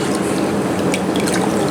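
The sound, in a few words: running tap water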